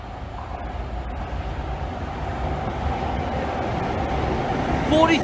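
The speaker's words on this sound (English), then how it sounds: "Next move for Virgin Trains East Coast 1 Sierra 20 from King's Cross to Aberdeen" A Virgin Trains East Coast train running from King's Cross to Aberdeen on the Northern Lights rumbles past steadily, its low rolling noise growing slightly louder toward the end, with a brief squeal near the close.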